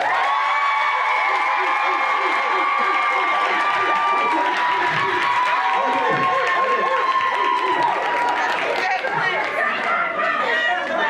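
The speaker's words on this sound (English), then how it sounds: "Clap if you want the last one." A comedy club crowd at the Laugh Factory cheers and whoops loudly, with clapping and excited chatter mixed in, the noise building and then shifting into a busy blend of many voices.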